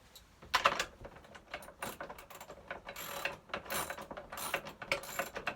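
A ratchet wrench tightening bolts while a post drill is installed, with quick clicking bursts repeating in an uneven rhythm, close and fairly quiet.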